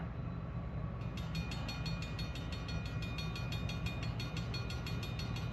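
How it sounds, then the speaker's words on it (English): A CSX freight train approaching a rail yard, heard as a steady low rumble with metallic clicking and a thin high whine that build slightly and stay moderately distant throughout. "I think we got another train coming."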